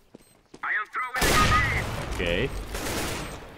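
Gunfire in the tactical shooter CS:GO, a loud burst of rapid shots kicking in partway through and ringing on after a brief spoken word at the start.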